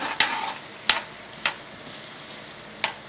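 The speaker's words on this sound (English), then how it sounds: "These onions and parsley, it's just simmering in this butter" Onions and parsley simmer in butter in a pot for jambalaya, giving a soft, steady sizzle broken by four sharp utensil clicks spaced unevenly across the clip, with no voices.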